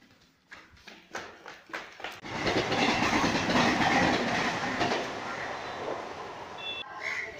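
A train passes through Mira Road railway station in Mumbai, with rhythmic clattering wheel beats building into a loud sustained rumble of cars rolling by close to the platform.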